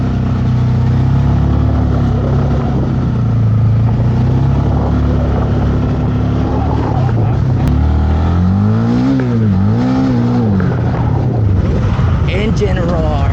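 A 2024 Honda Winner X 150 motorcycle engine roars loudly and continuously, steady revs that rise and dip near the end, with a voice heard over the engine noise.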